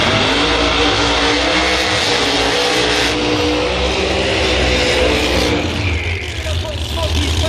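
Chevrolet Pro Mod drag race cars at the 2025 U.S. Nationals, a constant loud, dense engine roar filling the whole stretch, with an announcer talking over it.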